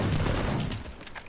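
Gunfire from a Razer GD23 carbine in a video game, a dense low burst of shots that booms loudly at first and then tails off over about a second.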